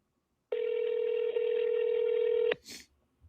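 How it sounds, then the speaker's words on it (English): A phone places a call: one steady dial tone sounds loud and near for about two seconds, then breaks off with a click, and a brief faint rustle follows. "I'm gonna try to call him right now."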